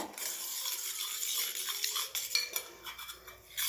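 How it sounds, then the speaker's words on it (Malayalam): A spoon stirs a carrot face cream mixture briskly in a bowl, clinking and scraping steadily against the sides, close up with no voices. "ഇതാ നന്നായിട്ട് ഇളക്കി കൊടുക്കണം"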